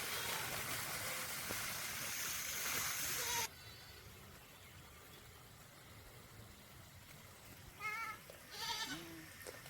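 A young calf is bathed at a Mattu Pongal celebration: a loud rush of poured water for a few seconds, then quiet outdoor background, with a couple of animal bleats near the end.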